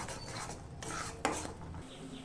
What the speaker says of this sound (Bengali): দেখুন, এবার একটু কষিয়ে নেব।